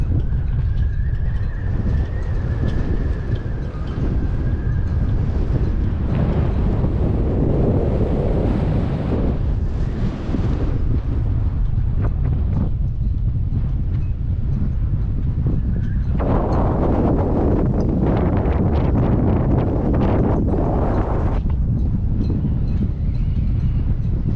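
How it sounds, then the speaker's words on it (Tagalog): Strong wind at sea on a blustery day buffets the microphone in a loud, continuous roar, with surging gusts and the wash of waves mixed in. "Medyo mahangin yung weather ngayon"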